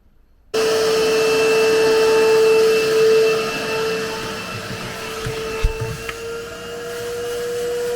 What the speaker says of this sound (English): Gotta suck up all the wetness out of this with the wet vac and try and get it as dry as I can.